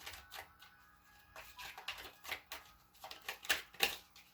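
Tarot cards are shuffled by hand in a soft riffling and sliding run of papery flutters and taps, fairly close and quiet, without any talking.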